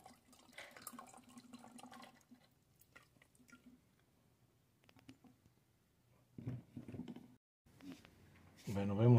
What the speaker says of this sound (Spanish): Y sale aceite por acá.